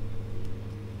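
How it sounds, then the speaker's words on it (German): A tractor engine in the Farming Simulator 19 video game hums in a steady, low, droning idle from the cab interior, moderately loud and unbroken throughout. "Der Traktor ist laut, ne?"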